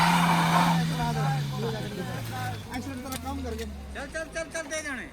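Hyundai Venue stuck in the ground, its engine revving hard as the wheels spin and whine, the pitch sliding down, then choppy bursts of revving under excited voices nearby.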